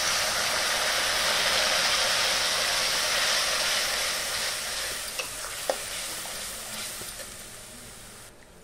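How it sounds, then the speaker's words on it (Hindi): Ground spice masala hitting browned onions in a hot pan for mushroom curry, a loud, steady sizzle with stirring that slowly fades, a couple of light clinks near the end and no voices. "प्याज थोड़ी सी ब्राउन कलर हो जाने के बाद अब हम इसमें ग्राइंड किए हुए मसाले को डाल देंगे।"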